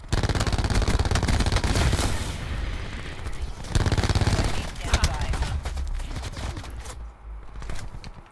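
Heavy video game gunfire rattles almost continuously in rapid overlapping bursts, loud and close, thinning out briefly toward the end.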